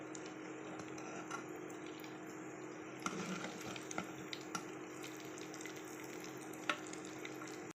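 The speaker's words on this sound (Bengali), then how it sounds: "গরম করে নিয়েছি, কাবাবগুলো ভেজে নেব।" Rohu fish kebabs fry in a hot pan with a quiet, steady sizzle and hiss, broken by a few sharp pops and light clicks.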